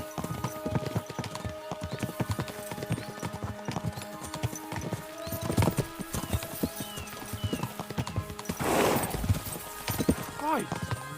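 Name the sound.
horses galloping, from video game Kingdom Come Deliverance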